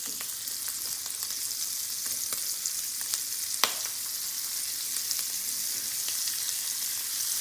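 Shrimp fry in a tablespoon of bacon grease, a steady close sizzle with faint crackles and one sharp pop near the middle.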